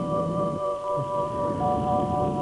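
Steady rain hisses with a low rumble of thunder underneath, while a few sustained tones hum through the background.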